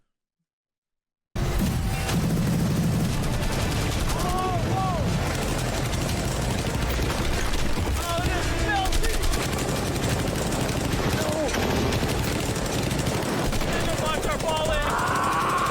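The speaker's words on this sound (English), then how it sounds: "os gajos a disparar devem estar bem contentes" Continuous loud rapid gunfire as people shoot at a Lamborghini, a dense sustained rattle with scattered whistling and pinging tones throughout.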